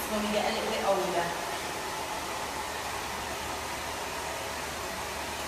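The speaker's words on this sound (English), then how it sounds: "I'm using a wrap drying technique. I've also got a nozzle on the hairdryer." A hair dryer fitted with a nozzle blows steadily while hair is wrap dried during a short haircut, a constant close airy rush that holds evenly throughout, with a voice talking over it at the start.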